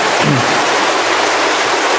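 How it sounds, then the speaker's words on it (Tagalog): Heavy rain pours down as a loud, dense, unbroken hiss that stays constant and close throughout, with nothing else standing out. "Grabe na naman po ang lakas ng ulan."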